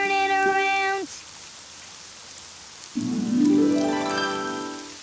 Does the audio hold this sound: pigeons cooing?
no